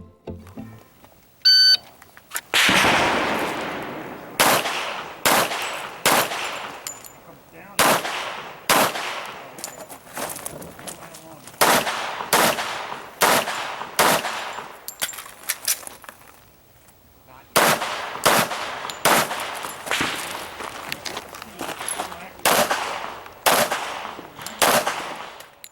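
Pistol fire at an IDPA shooting match, with sharp, loud shots in quick bursts and short pauses between strings, and a beep from the start timer near the beginning.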